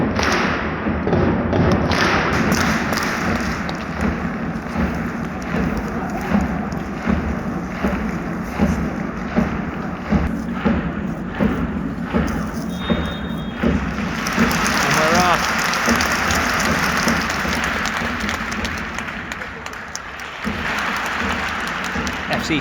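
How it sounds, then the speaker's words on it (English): Rhythmic crowd drumming and clapping thud and echo around Tokyo's huge Olympic Stadium during an FC Tokyo versus Kashiwa Reysol cup final, steady and booming beneath someone talking, with gusts of wind noise. "No singing, but this drumming and clapping is echoing around this epic stadium."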